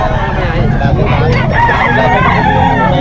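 Roosters and hens crow and cluck amid a dense crowd babble at a poultry market, a loud, busy mix of many birds and people talking all around.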